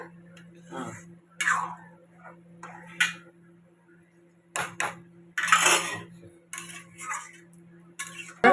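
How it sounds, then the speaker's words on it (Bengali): A spoon stirs boiled potatoes in a metal cooking pot while Bengali mashed potato is made. Uneven scrapes and clinks of utensil on pot come in short bursts over a low, steady hum. "আলুটাকে দিয়ে এবার এটাকে খালি নাড়তে হবে"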